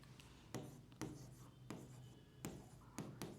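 Strokes of writing on a board during a building materials lecture: about six short scratchy marks with small pauses between them, faint and close, with no speech.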